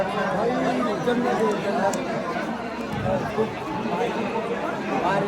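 A dense crowd chatters continuously at Barsana Dham temple, many overlapping voices forming a steady, close hubbub with occasional footsteps and bumps, never dropping out for the whole stretch.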